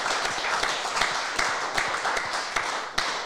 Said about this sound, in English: Round of applause for these volunteers.